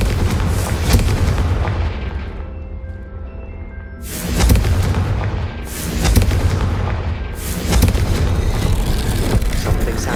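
The Confringo fire spell explodes in the video game Hogwarts Legacy with several heavy booms about two seconds apart, each a loud blast over a low, rumbling combat background.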